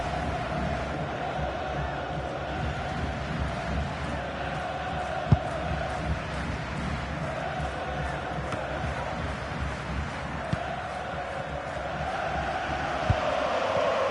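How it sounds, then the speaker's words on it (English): Crowd noise at a football match rolls on as a steady, fairly loud roar from start to finish, rising slightly at moments, with no clear individual voices standing out. "Being egged on by the crowd."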